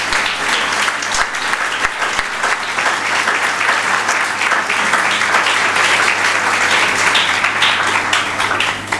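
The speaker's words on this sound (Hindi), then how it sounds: "तालियां बजाएं यीशु की" A church audience at a New Year sermon claps for Jesus. The applause is close, dense and steady, running continuously for about nine seconds at an even level, with a faint low hum underneath.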